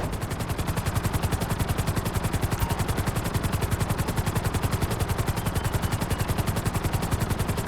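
Helicopter flying in Grand Theft Auto V during a flight school course, a loud, close rapid rotor chop beating steadily and evenly throughout with no pauses, no talking.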